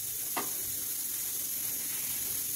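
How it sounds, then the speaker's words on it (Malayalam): Tea boiling over in a pot gives a steady sizzling hiss throughout, fairly faint, with one brief sharp spit of sound early on. "നിങ്ങടെ ചായ ചാടി കൂട്ടുകാരേ."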